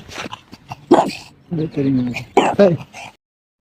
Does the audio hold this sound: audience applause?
no